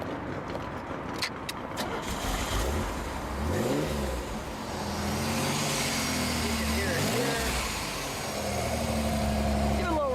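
A Pontiac Fiero's 2.8-liter fuel-injected V6 idles roughly, then is revved twice, the pitch climbing and falling back each time, loud and close.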